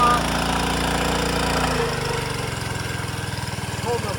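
A fire pump's small engine drops from a higher running pitch to a lower, lumpy idle as the throttle is eased back, a close, steady mechanical throb with no talk.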